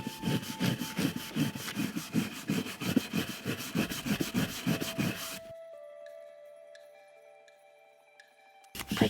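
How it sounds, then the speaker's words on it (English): Lengths of 2x6 lumber being sawn by hand in quick, even back-and-forth strokes for about five seconds, close and clear, before the cutting stops and only faint background sounds remain. "I'm going to cut these to approximately 10-inch lengths."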